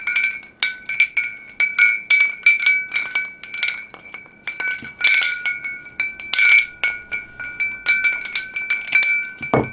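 Homemade wind chimes built from Dollar Tree parts clink and ring as glassy strikes in quick, irregular bursts, each with a bright lingering tone, close up and with no talk.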